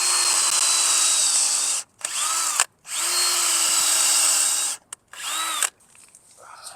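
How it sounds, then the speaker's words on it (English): A power drill whirs loudly in two long bursts into wood, with short start-stop pulses between them, the motor pitch dipping as it winds down. "All right, let's drill."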